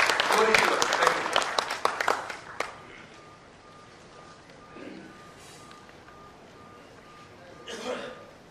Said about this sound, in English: So let us welcome with a round of applause to Vidyadhar Phatak.